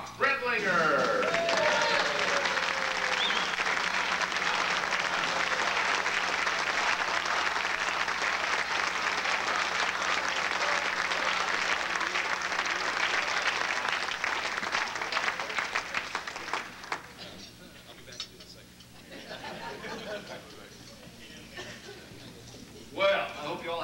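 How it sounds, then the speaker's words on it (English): A convention audience bursts into loud, sustained applause and cheering for a newly introduced official, the dense clapping filling the room for about fifteen seconds before thinning to scattered claps and murmurs. "let's have a little partisan cheering for the new man on the job, Dr. Brock Bretlinger."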